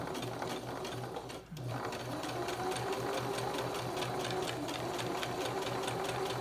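A sewing machine stitches a seam on a fabric face mask, a close, rapid, even mechanical chatter running continuously with one brief pause early on.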